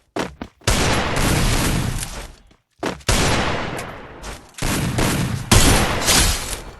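Rapid gunfire bursts from the Free Fire video game, several loud, dense volleys separated by brief pauses, with no voices over them.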